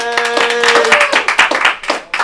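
At a live comedy show in a bar, a small audience claps in quick, close bursts, with a voice calling out over the first moment before the clapping thins into scattered, uneven hits.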